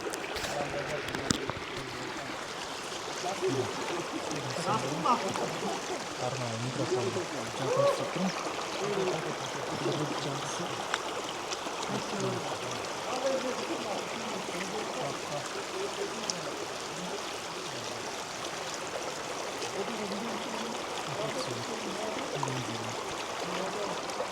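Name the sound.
mountain stream water flowing at Jeti Oguz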